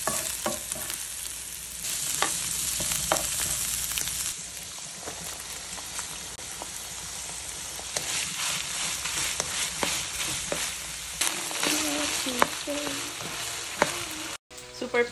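Chop suey vegetables, thickened with eggs, fry and sizzle in a pan in a home kitchen, with a continuous close crackle broken by frequent stirring scrapes and clinks of the utensil.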